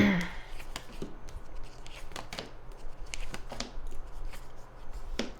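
Tarot cards being handled and laid down one after another, a run of soft slaps, flicks and papery rustles at close range, quiet and with no talking over them.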